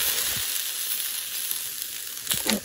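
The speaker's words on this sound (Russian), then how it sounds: "Жарим." Caucasian-style shashlik meat kebab sizzles steadily in a hot pan, a continuous crackling hiss with a few louder pops near the end.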